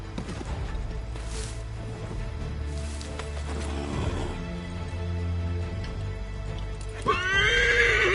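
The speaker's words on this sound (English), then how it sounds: "Get back on the horse, Connor." Horse in Assassin's Creed 3 gives a loud, bright whinny near the end, rising and falling, over a steady bed of game ambience and hoof movement.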